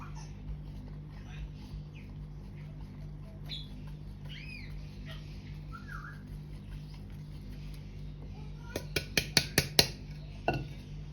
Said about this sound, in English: So I add a little bit and start mixing.